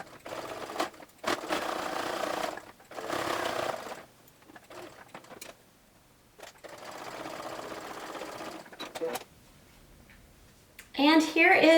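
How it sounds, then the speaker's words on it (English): A sewing machine stitches along the edge of double fold bias tape in bursts, with steady whirring runs separated by brief pauses, ending with a louder, sharper stretch of mechanical clatter. "now I'm going to stitch right next to the edge of the bias tape."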